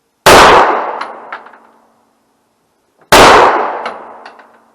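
Two loud, sharp gunshots at an outdoor shooting range, a few seconds apart, each cracking sharply and ringing off with a decaying metallic tail.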